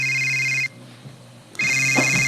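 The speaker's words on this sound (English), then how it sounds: "phone starts ringing" A phone ringtone plays loud and near in two bursts of steady electronic tones, broken by a short pause of quiet room noise, with no talking.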